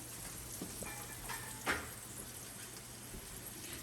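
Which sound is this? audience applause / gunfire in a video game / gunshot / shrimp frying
shrimp frying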